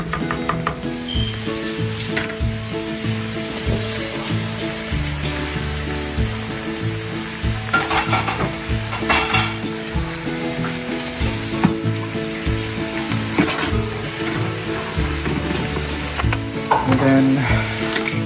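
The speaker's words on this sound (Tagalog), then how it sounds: "At medyo kumapit na yung soy sa chicken. Haluin lang natin yung mabuti." Chicken adobo with soy sauce sizzles loudly and steadily in a pan while being stirred, with scraping utensil strokes throughout; a voice briefly speaks over it.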